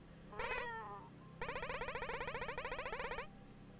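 A cat meows in the video game Momodora: Reverie Under the Moonlight, one short wavering meow followed after a pause by a longer, trilling, rapidly pulsing yowl, close and clear with no voices over it.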